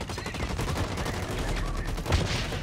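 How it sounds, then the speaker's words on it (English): Rapid submachine gun fire in Blacklight: Retribution, a continuous fast-paced rattle of shots at moderate loudness that keeps going the whole time and swells slightly near the end. "I just tried to shoot some guys from afar using a submachine gun"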